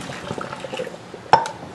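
Cold water is poured into a pot in a kitchen to cool eggs, giving a soft running, gurgling fill, followed by a couple of sharp metallic clinks near the end.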